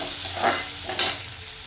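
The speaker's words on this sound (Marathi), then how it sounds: "मी यामध्येच रवा टाकणार आहे म्हणजे रवा भाजून घ्यायचा आहे याच्यामध्ये" Semolina (rava) roasting in a pan with urad dal, a steady close sizzle and a dry scraping of the spoon through the grains; soft stirring strokes rise now and then above the constant frying hiss.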